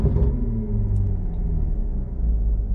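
Audi S4/S5 B8/8.5 with a 3.0T supercharged engine held at about 4,000 RPM for launch control, a steady loud low rumble and drone with no voices.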